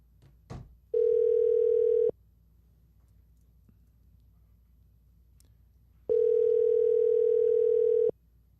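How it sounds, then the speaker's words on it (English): Two long steady telephone tones sound after a brief click, each lasting a second or more with a silent gap between, as a phone call is placed; clear and close with no talk. "Call Mutt real quick"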